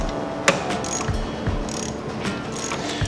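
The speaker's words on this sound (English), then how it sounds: "starting to get that lower bolt on the solenoid to turn." Ratchet clicking as it turns the lower solenoid bolt on a John Deere 955 compact tractor, a steady close run of small mechanical ticks with one sharper knock near the start.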